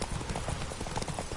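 Roach the horse gallops hard in The Witcher 3: Wild Hunt on PS4, a brisk, close rhythm of hoofbeats that fills the short moment without pause.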